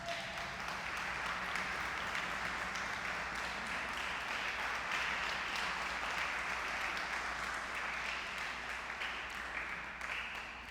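A church congregation applauding, a steady, dense wash of clapping held at an even level throughout, heard from some distance.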